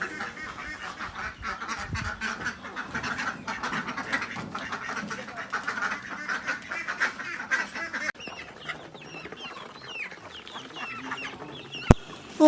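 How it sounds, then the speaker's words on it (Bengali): Farm ducks kept in a small shed pour out into the yard, a dense overlapping chorus of quacks and clucks at moderate distance, carrying on continuously with a sharp knock near the end. "হাঁসগুলো আমার পিছিয়ে পিছিয়ে বের হয়ে আসতেছে।"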